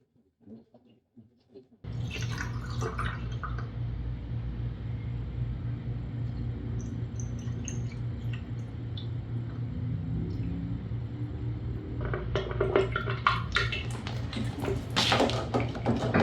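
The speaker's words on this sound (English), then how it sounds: "I have poured only this much of water." Water pours steadily into the cooling system of a Suzuki GSX-R1000R motorcycle, a close, continuous splashing rush that runs unbroken for over ten seconds and grows busier toward the end.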